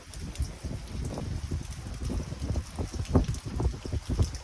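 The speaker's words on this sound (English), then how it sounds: "It's windy. It's unbelievably windy out here." Strong gusty wind from Hurricane Hanna buffets the microphone in uneven rumbling surges, loud and close, with no voices.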